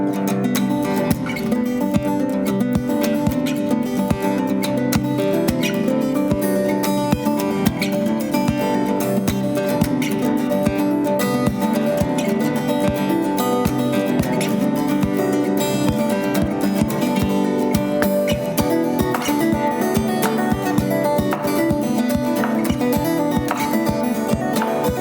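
An acoustic guitar piece plays steadily, bright plucked notes and strummed chords in a busy continuous rhythm, loud and close, with no voices.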